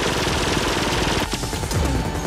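Upgraded turret in the video game Firefall firing in a rapid continuous burst of shots, loud and close, with brief impact clatter near the end.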